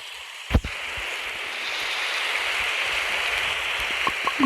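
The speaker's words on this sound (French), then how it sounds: "non, il pleut." Steady broadband hiss of rainfall in the video game 99 Nights in the Forest, a constant wash of drops with a few soft taps and thumps near the start and end.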